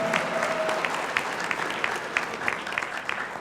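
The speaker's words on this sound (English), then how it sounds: "So a round of applause for them too, please." Applause from a commencement audience for the institution's staff, a steady patter of many hands clapping at moderate distance, with a brief tone near the start and some faint voices underneath.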